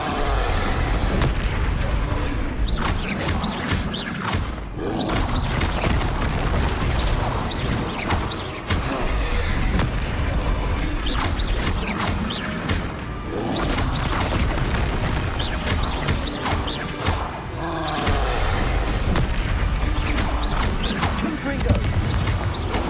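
Booming blasts from the Confringo explosion spell in a Harry Potter video game come in dense, repeated bursts, loud and close, layered with crashing, gunfire-like impacts throughout.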